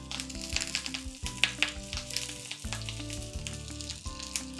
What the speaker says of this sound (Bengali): এবার একটা একটা করে পাতুড়ি আমি তাওয়ার মধ্যে দিয়ে দিচ্ছি